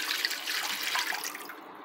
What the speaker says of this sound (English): Now here in this Pyrex, we will add the maple syrup water mixture.